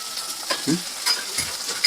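Ladle stirring onions frying in a pan, a steady sizzle with several scraping and clinking strokes of the ladle at an uneven rhythm.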